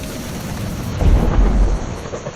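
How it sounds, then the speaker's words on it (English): A thunderstorm rumbles with deep, heavy thunder over steady pouring rain, loud and close, the low roll swelling midway through. "Suddenly, storm clouds gathered and rain started pouring down."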